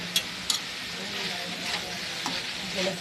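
Grated fresh coconut being stirred into a cooked vegetable curry in a pan, a soft continuous sizzle with a few sharp spoon clinks against the pan, close and without talk.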